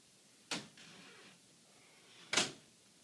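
Two sharp knocks of a door being shut indoors, the second a little louder, separated by a quiet pause of about two seconds.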